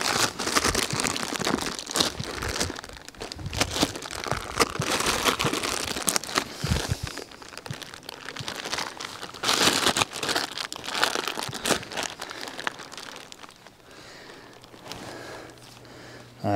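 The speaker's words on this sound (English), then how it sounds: "if you take a knife and just cut chunks out of it" A knife cuts chunks out of a block of baker's fondant for feeding honey bees, giving close, continuous crinkling and crunching scrapes that ease off toward the end, with no talk.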